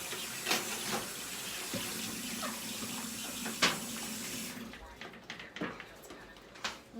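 Tap water runs into a sink as something is rinsed out while making meatball sub sandwiches, a steady wash with clatter, cutting off partway; a voice talks over it.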